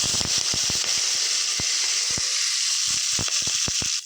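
Fennel seeds and curry leaves crackling in hot oil in a mud pot, a loud steady sizzle broken by sharp popping spatters, quick clusters at first, then sparser pops.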